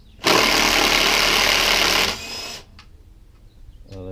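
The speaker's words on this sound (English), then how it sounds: "I should be able to just do that with my impact drill." Impact drill spinning bolts loose on a Subaru Outback during strut, lower control arm and CV axle work, one loud continuous burst of about two seconds that stops abruptly, then quieter clicks and rattles.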